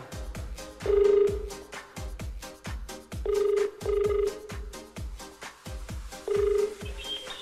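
A telephone rings for an incoming call on a TV variety show, with repeated short ring bursts sounding over loud, rhythmic studio music.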